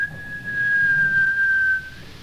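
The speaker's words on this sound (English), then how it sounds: "He pushed it open and gave a shrill whistle." A single shrill whistle held as one steady high tone for about two seconds, clear and fairly close over a quiet background.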